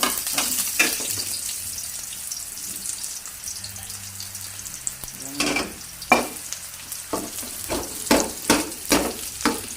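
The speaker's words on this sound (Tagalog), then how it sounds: "lagay na natin yung sibuyas" Onions frying in a pan for Filipino chicken adobo: a steady sizzle at first, then a run of sharp scraping strokes from a large ladle, close and strongly rhythmic near the end.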